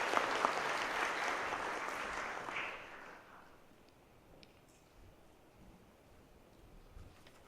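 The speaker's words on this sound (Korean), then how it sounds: "박수로 맞아주십시오." A seated audience at a Korean pharmaceutical industry conference applauds to welcome the association chairman, a broad wash of clapping that fades away after about three seconds into quiet room tone.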